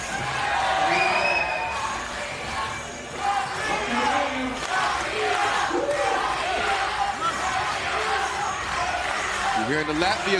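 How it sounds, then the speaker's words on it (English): Latvian fans chanting in the arena crowd during a 3x3 basketball World Cup semi-final against Serbia, a loud sustained roar of voices with rhythmic shouts throughout, a commentator talking over it. "You're hearing the Latvia chants in the crowd."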